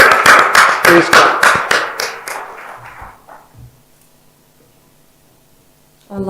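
Applause at a women's leadership conference in Dubai rises in dense bursts of hand claps, loud at first, then thins to scattered claps and fades to near silence within about three seconds before a faint voice enters.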